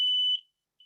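A piercing smoke alarm tone sounds for a moment and cuts off, followed after a short pause by the start of another beep, sharp and close in a quiet room.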